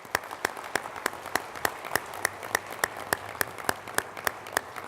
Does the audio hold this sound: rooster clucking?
no